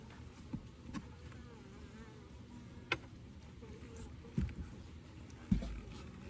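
Honey bees hum steadily around an open 20-frame Layens horizontal hive during an autumn inspection, a soft continuous buzz with a few sharper knocks from frames being handled.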